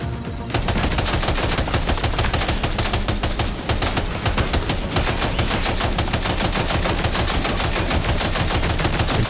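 Sustained machine gun fire in the video game Death Stranding 2, loud rapid rattling bursts continuing almost without break, close and dominant.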